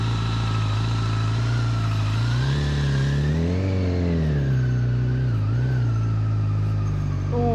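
A Honda CB1000R engine is ridden through Edinburgh streets, rising in a smooth rev near the middle, easing off and then holding a steady drone, fairly close and continuous.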